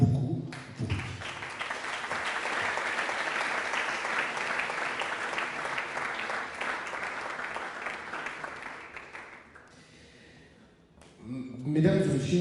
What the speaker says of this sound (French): Et si j'étais vous, j'applaudirais beaucoup pour lui.